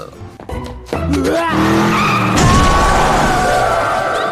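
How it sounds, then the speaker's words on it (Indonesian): A movie car skids with screeching tires and slams into a man, a loud sustained squeal of rubber with tonal whines and a harsh impact burst, all dense and close with no talking. "Hingga pada akhirnya Endo tertabrak oleh sebuah mobil."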